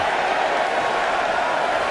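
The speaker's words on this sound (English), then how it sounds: "Listen to this crowd count the next one in" An arena crowd at the 2020 Women's Royal Rumble counts down the next entrant, a dense, steady roar of many voices filling a large hall with no single voice standing out.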